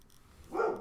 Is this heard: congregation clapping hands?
no